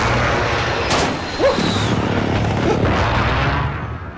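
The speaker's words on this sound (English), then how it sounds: "Enemy precision airstrike." Booming blasts from an enemy precision airstrike in Call of Duty: Modern Warfare Warzone, a dense, continuous barrage of loud explosions and rumbling impacts with no clear gaps between them.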